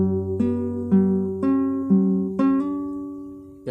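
Guitar picking single strings for the intro of a song, alternating between an open third string and a fretted second string in an even, close, clear rhythm, each note ringing and decaying, played alone.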